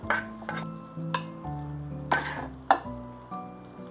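Pieces of leftover steamed bun coated in egg are stir-fried in a wok over moderate heat, a low sizzle punctuated by several sharp spatula scrapes and clanks against the metal, each followed by a ringing tone.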